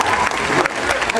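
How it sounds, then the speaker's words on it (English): Brief burst of audience applause at a stage show at the Puyallup Fair, loud and close, with a crowd clapping continuously. "Give a round of applause there"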